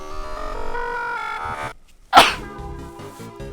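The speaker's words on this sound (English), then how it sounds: "That was just a loud sneeze right into the mic" A single loud, close sneeze blasts straight into a microphone during Deltarune gameplay, a sharp burst that cuts through a brief silence in the game music, which then carries on softly.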